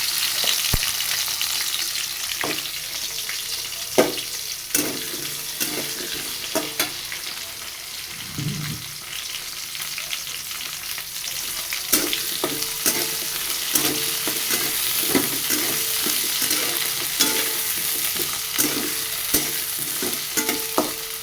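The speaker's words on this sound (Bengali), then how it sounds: "আলু ভাজা ভাজা হয়ে গেছে" Cut potatoes frying in a pan, stirred throughout: a continuous close sizzle broken by frequent sharp scrapes and clacks of the utensil against the pan, with no voices.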